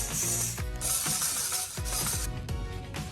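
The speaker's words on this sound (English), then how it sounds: "Then we tighten the screws of table legs." A ratchet tool tightens the screws of the table legs for a water-cooled air conditioner unit, giving quick, close repeated clicking bursts with short pauses between strokes.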